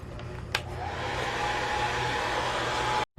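A hair dryer blows steadily to dry wet paint on a sunset painting, a loud, continuous whooshing hum with a brief click near the start and a sudden cutoff just before the end.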